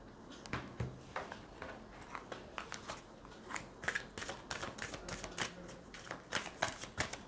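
Tarot cards are shuffled and drawn from the deck close by, with soft, irregular papery flicks, riffles and snaps at low volume and no one talking.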